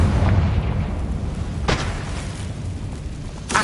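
A Confringo spell explosion in Hogwarts Legacy on PS5 opens with a loud, deep rumbling boom that decays into a lingering roar, with two sharper bursts following, and no talk.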